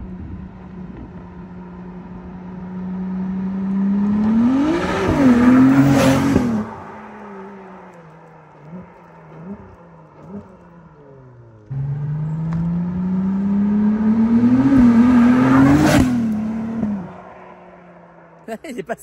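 A Ferrari 296 GTB passes by twice, its engine note rising as it accelerates close by, with audible gear shifts before it fades into the distance.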